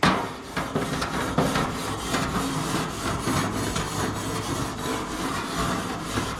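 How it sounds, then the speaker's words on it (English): A cast iron grill grate being scraped before grilling steak, potatoes and corn, a steady rasping scrape with rhythmic back-and-forth strokes, close and continuous throughout. "First step, scrape your grill."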